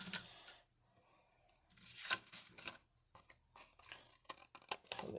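Scissors cutting paper in half while making a gift card holder, a few quick snipping and crisp rustling bursts with short quiet gaps, close and fairly soft.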